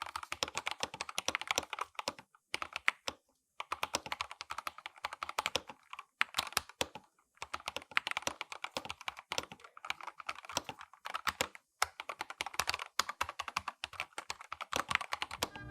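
Typing on an IQUNIX A80 mechanical keyboard fitted with TTC Speed Silver switches, a steady run of close, crisp keystroke clicks in quick bursts with short pauses, no voices.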